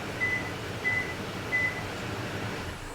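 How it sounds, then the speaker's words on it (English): Three short, thin electronic beeps from a Remogo remote start system on a Toyota Tundra, evenly spaced about two-thirds of a second apart, heard over a steady low engine-like hum. "Maybe that beep, initial beep afterward lets you know that you can shut it off"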